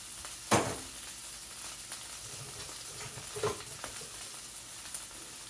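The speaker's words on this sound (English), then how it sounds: "So just a little olive oil for the pan, and then break the sausage down." Sage sausage sizzling softly in olive oil in a pan, a steady low crackle with a few sharp pops and occasional stirring scrapes.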